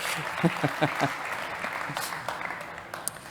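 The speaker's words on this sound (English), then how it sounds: "Big applause for Bob." Audience applause at a startup competition on energy transition and sustainability, a short burst of clapping under a voice that starts strong and thins quickly.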